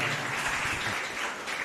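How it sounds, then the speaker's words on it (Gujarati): Applause at a temple Jal Jhilani Ekadashi festival, a brief burst of dense clapping from a gathered crowd, fairly close and steady throughout. "તો બધાને એકવાર તાળીઓથી વધાવો"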